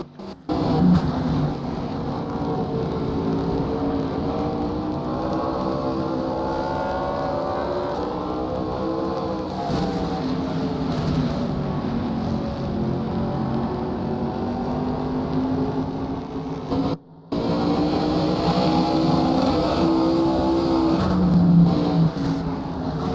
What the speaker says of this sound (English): These modifieds sound amazing, man.